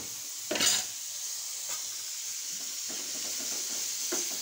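Sliced plantain and potatoes cook in hot oil in a pan, giving a steady soft sizzle and hiss, broken by a few scraping stirs of a spoon, close up with no talk.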